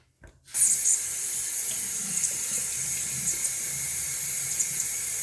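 Bathroom tap water rinsing after a shave, starting abruptly and then running as a steady, close, even stream with a few faint splashes and no speech.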